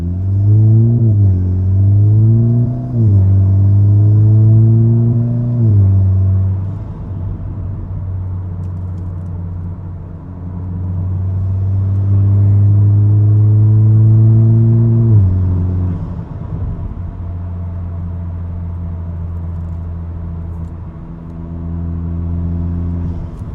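A car with a flash-tuned IS38 transmission control unit downshifts with rev matching, the engine blipping up in pitch several times over a steady low rumble, loud and close, with no talk.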